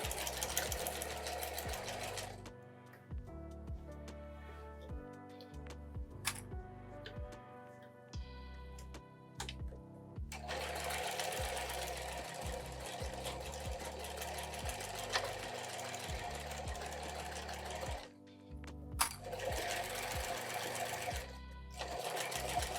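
A sewing machine runs in loud bursts of rapid rhythmic stitching with short pauses between, sewing the boxed bottom of a fabric tote close by.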